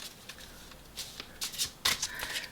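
A deck of cards is shuffled close by in a few short riffles and soft papery flutters, quiet and intermittent.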